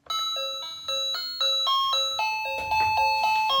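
Demo song playing on an electronic mini keyboard from Five Below, a bright bell-like tune of short, evenly stepped notes, close and clear with no talking.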